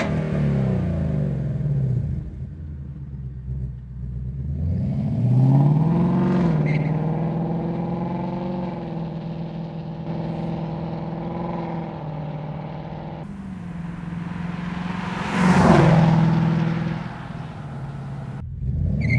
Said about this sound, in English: These next few runs now are with the Resonator Delete X pipe installed and the block off plates back in the mufflers.